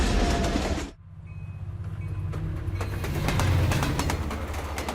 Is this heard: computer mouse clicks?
no